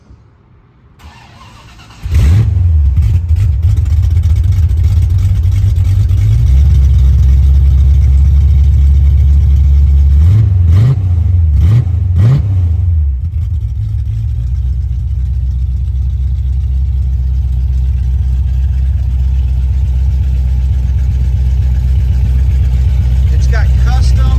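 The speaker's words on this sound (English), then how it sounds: "He's gonna start it up for me" 1978 Pontiac Firebird Trans Am with Holley Sniper fuel injection cranks and fires up, settles into a deep rough idle, blips through a few revs, then idles on steadily, close and loud.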